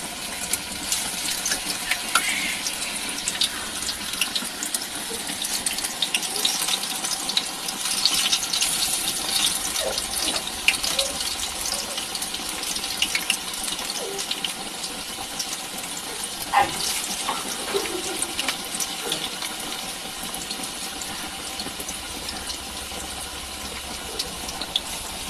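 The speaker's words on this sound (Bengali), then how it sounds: "এই যে হাতটা আমি ধুয়ে নিলাম ভালো করে।" Hands washed under a running tap in a kitchen while making coriander-leaf fritters (dhone pata bora): steady, close water gushing and splashing for the whole stretch, with small clatters, and no talking.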